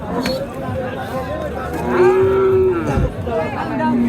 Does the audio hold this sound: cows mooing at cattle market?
yes